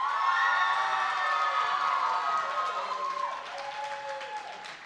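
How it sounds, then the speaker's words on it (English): A studio audience claps and cheers in a warm, steady wave of applause with scattered shouts, slowly tapering off toward the end. "now the applause has been set."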